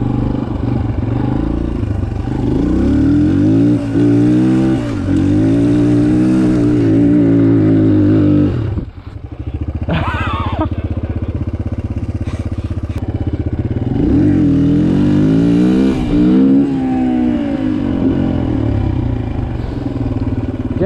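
A Suzuki DRZ125 dirt bike revs loudly and close on sand in a quarry while doing wheelies, its engine climbing in pitch through repeated throttle bursts and easing off with a brief dip midway.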